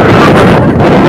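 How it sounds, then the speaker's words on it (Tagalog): Strong wind roars steadily across the microphone on the open upper deck of a passenger ship sailing from Ozamiz port toward Butuan, a loud broadband buffeting with low rumble throughout and no voices. "Sobrang lakas nga naman pala kasi ng hangin ng mga oras na yan"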